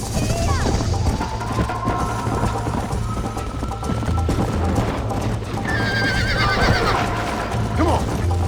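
Horses in the Western video game Red Dead Redemption whinny and clop along at a steady hoof rhythm, with mechanical clatter and a player's voice talking over the noise.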